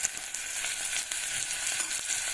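Asafoetida dropped into hot oil crackles and sizzles in a steady, bright hiss close by, with a few small pops and no voices.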